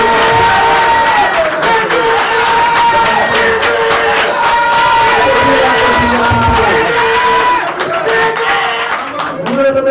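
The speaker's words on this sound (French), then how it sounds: "je vous demande d'applaudir fort, s'il vous plaît, notre président" A crowd at a political gathering applauds and cheers loudly for the president, with dense clapping and shouts over sustained loud music or tones throughout.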